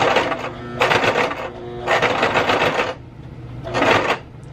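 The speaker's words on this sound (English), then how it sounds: "then you are going to sew halfway through it" Sewing machine stitching a fabric over-the-collar dog bandana, three close bursts of rapid mechanical chattering separated by short pauses, over a low hum.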